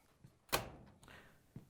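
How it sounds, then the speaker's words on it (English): A solid thunk of a Whirlpool dryer door swinging shut, followed by a faint clatter and a soft knock at the end. "we can close the dryer door"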